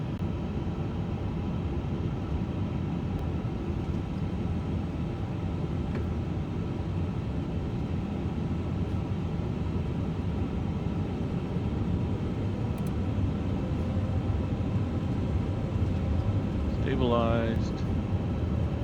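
An Airbus A350 rolling for takeoff in Microsoft Flight Simulator 2024, a steady broadband engine roar with constant rumble throughout, while a voice speaks over it.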